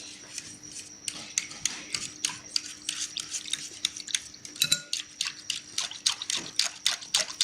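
An egg beater whisks a homemade hand sanitizer mixture in a bowl, giving rapid, irregular clicking and clattering strokes with a faint liquid slosh, close and continuous.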